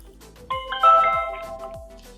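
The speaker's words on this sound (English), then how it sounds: "Someone rang the doorbell" A MADV security doorbell camera rings with a bright electronic chime, sustained tones stacking over a second or so, close and clear with a faint low hum beneath and no talk.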